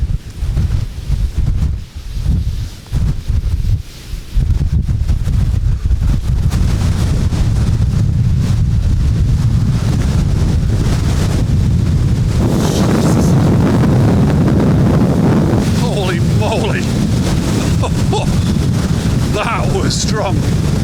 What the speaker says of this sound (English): the wind is just like 100 mile an hour